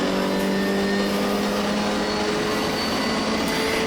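A racing MGB's engine drones steadily and loud at Snetterton circuit, a sustained throaty note holding on the straight with no voices over it.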